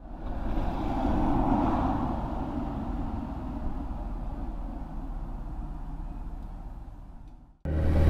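A 2017 Kawasaki Ninja H2 motorcycle being ridden, a steady engine drone mixed with wind rush that holds for several seconds, then cuts out briefly and comes back louder.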